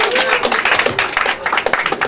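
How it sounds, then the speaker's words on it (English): A crowd applauds a lucky winner called up on stage at a magic show, a brisk, dense burst of clapping with a voice talking over it. "Let's give this lucky winner a round of applause!"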